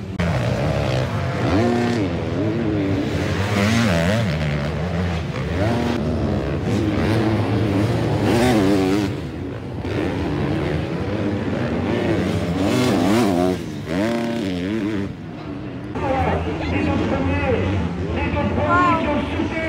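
Racing motorcycles howl around a track during a race, engines rising and falling with constant revving and passes, while a person talks over the noise throughout.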